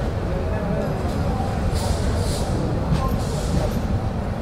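A passenger train from Rangpur pulls into Kamalapur railway station in Dhaka, a steady low rumble of wheels and carriages rolling continuously, with faint background sounds over it.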